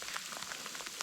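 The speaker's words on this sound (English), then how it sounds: "It's raining, man." Rain falling on a tent during winter fishing, a steady soft patter of drops with faint crackly taps, quiet and continuous with no talk.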